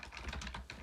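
Quick taps on a computer keyboard during Python coding, a short close burst of about a dozen evenly spaced clicks with no voices over them.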